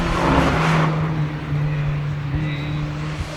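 Family Mazda racing at the Curborough two-lap sprint, engine droning steadily at a constant pitch with a slight swell, close and continuous throughout.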